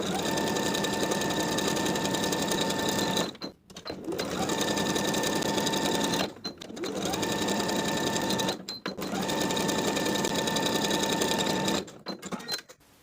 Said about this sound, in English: Then we'll sew right on top of each line, sewing both layers together.